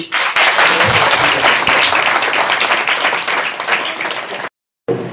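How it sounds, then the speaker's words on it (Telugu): An audience at a village Christmas celebration in Kothapeta, Yelamanchili applauds loudly, dense clapping that swells then tapers, ending abruptly after about four and a half seconds. "గట్టిగా చప్పట్లు కొట్టి"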